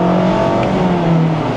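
Mazda MX-5 Miata engine pulling hard through a corner, a steady loud droning roar with tonal harmonics, close and continuous with no talk.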